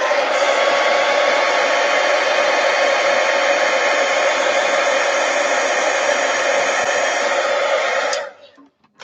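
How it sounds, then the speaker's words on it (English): A heat gun blows steadily on watercolor and ink artwork, a loud, close, continuous rushing roar that cuts off near the end. "Heat gun."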